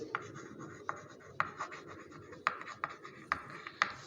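Chalk or a pen writes on a board in a math class, making a series of short scratchy strokes at irregular intervals. The strokes are close but faint, and no one speaks.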